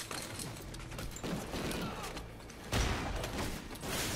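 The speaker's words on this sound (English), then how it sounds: "Sorry for opening fire." Gunfire in the Call of Duty Ghosts video game, a volley of shots and mechanical clatter amid a noisy game soundscape, with a heavier burst partway through, moderately loud and dense.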